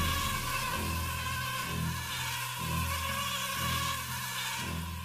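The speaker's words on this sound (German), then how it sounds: "mit den ganzen Mücken hier wird das nicht einfach werden" Mosquitoes in a cartoon jungle scene drone in a steady, loud, continuous high-pitched whine with layered buzzing tones and a faint low rhythmic undertone throughout, no voices.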